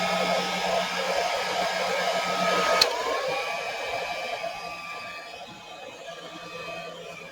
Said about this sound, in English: Turn your heat gun on.